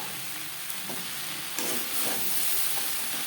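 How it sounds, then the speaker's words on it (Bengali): Chopped sponge gourd is tossed into onions fried until reddish in a pan for a low-oil fish curry. A dense, close sizzle carries on throughout, with a few scraping stirs and a louder burst midway. "এই পর্যায়ে দিয়ে দেব টুকরো করে কেটে রাখা ধুনুল।"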